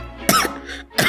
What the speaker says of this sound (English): Never heard of smoker's cough?